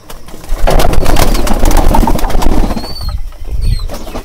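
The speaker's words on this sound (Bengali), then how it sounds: "এই যে খাবারটা দিয়ে দিলাম কবুতরগুলোকে।" Hungry pigeons being fed: a loud flurry of flapping wings and scrabbling close by, with soft cooing and a few short bird calls mixed in.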